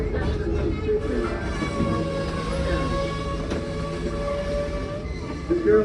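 A tourist train on the Tweetsie Railroad rumbles steadily from on board, a continuous low rolling drone with a brief sharp click partway through, as people talk beneath it.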